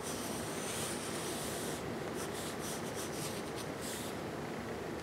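A white pencil draws a skull shape on paper, giving a steady, close scratching and rubbing of the lead across the sheet, continuous throughout with faint stroke-by-stroke texture.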